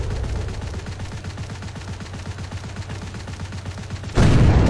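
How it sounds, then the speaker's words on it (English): A Chieftain tank's machine gun fires in War Thunder, a long, steady stream of rapid, evenly spaced shots, loud and sustained, before a sudden burst of heavy noise cuts in at the end. "that chieftain's annoying machine guns finally shut up"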